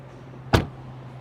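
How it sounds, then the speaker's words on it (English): The hood of a 2023 BMW M8 Competition pops open with a single sharp thunk, close and brief, against a low steady hum. "So we'll go ahead and pop the hood."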